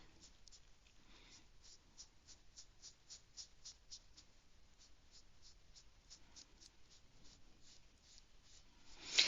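A slightly damp sponge rubs back and forth over a ceramic piece prepared with underglaze, giving a steady series of soft, close scrubbing strokes, with a sharper knock right at the end.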